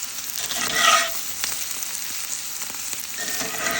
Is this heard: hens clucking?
no